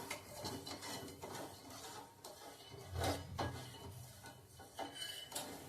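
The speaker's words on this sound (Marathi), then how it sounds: "गॅस स्लोच ठेवायचा आहे आणि एकसारखं हलवत राहायचं आहे।" A spoon scrapes and knocks against a pan while stirring sugar syrup over low gas, irregular rubbing strokes and light clinks at close range, fairly quiet with no talk.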